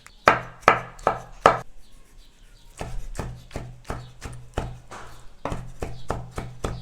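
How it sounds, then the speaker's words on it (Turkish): Knife dicing three tomatoes into cubes on a cutting board: a steady series of sharp chopping taps, four louder strokes first, then a brief pause and a long run of quicker, evenly spaced cuts, close and alone. "3 adet domatesi küp küp doğruyorum"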